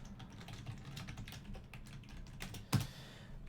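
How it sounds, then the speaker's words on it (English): Quick bursts of typing on a computer keyboard, close and fairly faint, with uneven clicks running throughout and one slightly louder clack near the end; no talking. "let me type some real quick"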